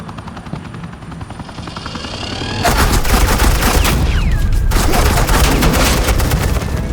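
Suppressing gunfire in Telltale Batman, a sustained, loud volley of rapid shots that bursts in suddenly after a quieter rumbling stretch, with a helicopter-like drone running underneath.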